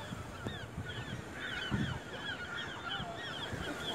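Geese honk repeatedly and overlap in a noisy flock on the Monterey coast, fairly near, over a low wash of wind and surf, with no talk.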